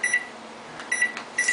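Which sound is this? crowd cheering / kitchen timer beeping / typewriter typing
kitchen timer beeping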